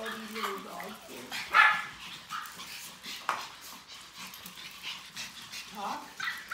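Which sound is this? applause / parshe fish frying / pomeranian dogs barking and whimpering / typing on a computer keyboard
pomeranian dogs barking and whimpering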